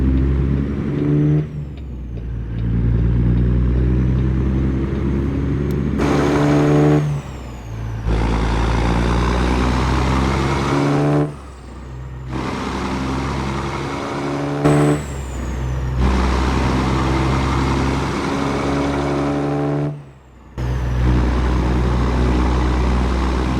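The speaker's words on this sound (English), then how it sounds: "Let's pull out onto the road and listen to this beautiful engine mod." A modded truck engine in American Truck Simulator drones loud and close while pulling onto the road in Iowa, revving up and dropping off at several gear changes, with a hiss of air brakes and no talking.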